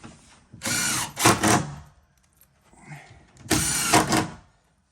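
A power drill drives the last few screws into pre-drilled door hinges, with two loud whirring bursts separated by a short pause and a faint noise between them.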